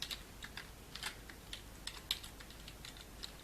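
Quiet, close tapping on a computer keyboard as an email address is entered, a scattered run of light individual keystrokes over a faint background hiss, no voices.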